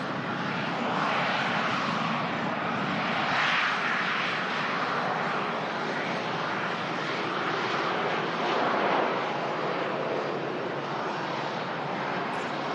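A fixed-wing airliner at Manchester Airport, bound for Bucharest, roars steadily with a broad engine rumble that swells slightly and eases, heard at a distance without speech.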